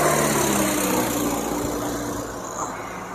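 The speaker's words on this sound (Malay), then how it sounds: "sekejap kita bagi kereta lalu dulu" A car passes close by on a residential road in Labu Hilir, its engine a steady loud roar that slowly fades over a few seconds, with no talking.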